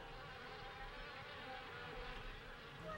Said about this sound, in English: Got live honeybees right over here.